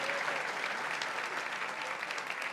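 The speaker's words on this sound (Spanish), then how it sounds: "le damos un aplauso a ellos" Church congregation clapping together, a continuous, even patter of many hands heard fairly close, with no talking over it.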